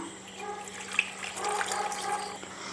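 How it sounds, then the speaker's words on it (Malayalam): Water pours steadily into a metal pressure cooker close by, a soft continuous splashing with a faint electrical hum underneath. "കുറച്ച് വെള്ളം കൂടി ഒഴിച്ചു കൊടുക്കാം."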